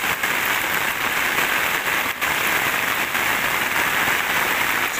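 Heavy rain pours down steadily over a village in Sidokaton, Tanggamus, a dense, continuous roar of water close by with no pauses.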